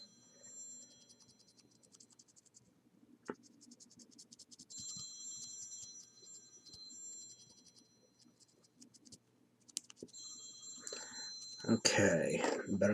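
A mobile phone rings with repeated bursts of a high electronic ringtone pattern, interrupted by pauses and soft handling noises, with a louder rustle near the end.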